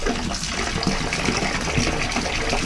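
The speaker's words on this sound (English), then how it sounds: "Let me get some hot water in here." Hot water gushes steadily into a clogged bathtub, a continuous splashing, rushing fill heard close up and alone without any talking.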